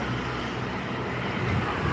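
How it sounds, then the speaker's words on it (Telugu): Vehicles pass on a road above a rain-swollen stream after three days of heavy rain. A steady broadband rumble of traffic and rushing water holds throughout, with a slight swell of a nearer passing vehicle toward the end. "పైన వెహికల్స్ వెళ్తున్నాయి"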